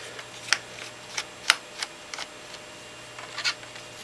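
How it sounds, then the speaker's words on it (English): Screws are worked loose from the back casing of GHD 5.0 Gold Series hair straighteners, giving sparse, close little clicks and scratchy ticks of a screwdriver on plastic and metal, spaced irregularly over quiet. "Then we want to remove the two screws from the back of the straighteners here,"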